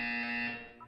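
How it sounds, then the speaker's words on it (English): A buzzer from the video game Portal 2 sounds as a steady, loud electronic alarm tone that holds for most of a second before breaking off into a short, lighter blip. "When you hear the buzzer, look up at the ceiling."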